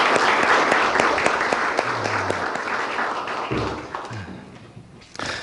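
Audience applause for a church choir and its instrumental accompanists at a university chapel service, a dense wash of many hands clapping steadily throughout, tapering slightly near the end with a few low thumps underneath.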